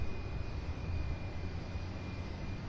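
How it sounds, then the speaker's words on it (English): A Boeing 757 jet taxis at Louisville's SDF airport, its engines giving a steady, even roar with a thin high whine, distant and unbroken for a few seconds. "all while the 757 is already taxiing over"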